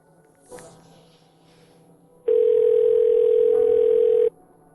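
Steady telephone dial tone, a single continuous hum about two seconds long, sounding loud and alone after a short quiet stretch with faint background noise.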